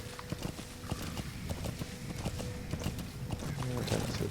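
Horse hooves clip-clop in a steady trotting rhythm in Metal Gear Solid V, fairly close and moderately loud, with some game ambience underneath.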